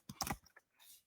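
Typing on a computer keyboard: a quick cluster of close key clicks, a couple of softer taps, then a brief faint rustle, with no talking.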